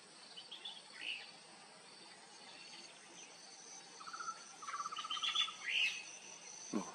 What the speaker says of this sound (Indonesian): Cuman burung-burung begini saja yang ada. Ada kriak, kemudian takur.